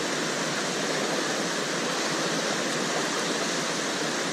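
Steady, full rushing of a mountain river in the Great Smoky Mountains, constant and close, with no breaks or other sounds.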